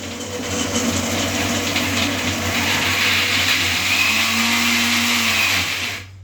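A kitchen mixer grinder whirring loudly and steadily for several seconds with its lid off, a constant motor roar that cuts off abruptly at the end.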